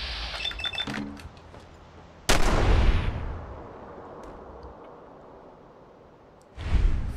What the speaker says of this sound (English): Feels kind of low shooting somebody in the back when they're running away.